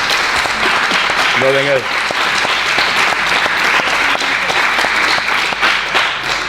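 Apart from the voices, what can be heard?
audience applause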